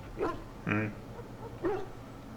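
A Mabari war hound in the video game Dragon Age: Origins barks in three separate bursts over a steady low background hum, each yelp clear and close.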